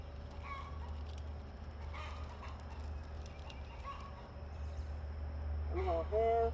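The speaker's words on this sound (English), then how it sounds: "I hear you, chicken." Backyard chickens clucking in a garden, brief harmonic calls rising near the end over a steady low hum and faint background noise.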